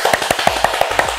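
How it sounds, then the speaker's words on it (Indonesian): Several hands clap in a short burst of about eight sharp, close claps at a quick, slightly uneven rhythm. "Sebelumnya kita tepuk tangan dulu"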